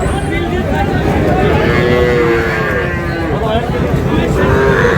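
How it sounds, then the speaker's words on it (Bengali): Young bull calves moo at a cattle market, drawn-out calls rising over a loud, busy background of crowd chatter and voices nearby. "এই যে এখানে তিনটা দেখছেন, আতাউর ভাই ষাঁড় বাচ্চা।"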